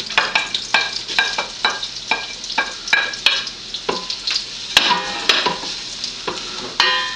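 Roughly chopped garlic and shallots sauté and stir in a hot pan, with a steady sizzle broken by repeated sharp scraping strokes of a utensil against the pan, close and fairly loud with no talking.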